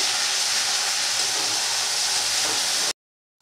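Ginger, garlic and onion paste fries with prawns in a pan, a loud, even, hissing sizzle held for about three seconds before it cuts off abruptly into silence, with no speech.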